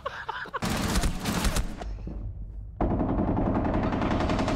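Pistol gunshots in a video game, loud sharp reports in quick succession, a brief pause, then another rapid string of shots with dense clattering texture, no talking.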